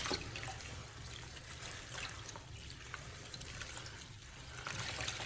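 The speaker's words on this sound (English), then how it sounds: "After soaking, I rinse the green onions again with clean water." Tap water runs steadily while green onions are rinsed in a kitchen sink, a faint, continuous splashing trickle with no talking.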